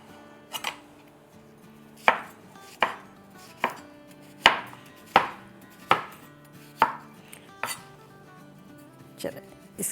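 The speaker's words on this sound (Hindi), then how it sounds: "ये दूसरा क्यूकम्बर है, उसको हम काट लेते हैं" Knife chopping cucumber on a cutting board while making a refreshing drink, about a dozen sharp, evenly spaced chops ringing with a slight clink, close and clear with no talk over them.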